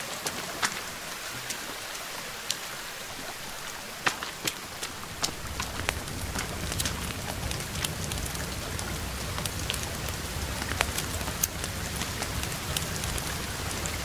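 Steady rain falls across a forest in The Forest survival video game, a continuous hiss of drops with scattered sharp ticks and patters, heard alone without talk.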